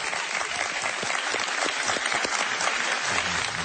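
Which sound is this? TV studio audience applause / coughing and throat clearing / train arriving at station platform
TV studio audience applause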